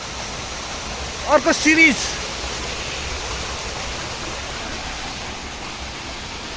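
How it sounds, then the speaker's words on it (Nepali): A three-tiered waterfall roars steadily as a broad, constant wash of falling water, with a voice briefly speaking over it. "यो 3 तले झरनामा आइपुगेका छौँ"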